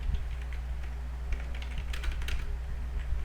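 Steady, quiet clicking of keys on a computer keyboard as C code is typed, with a quick flurry of keystrokes near the end.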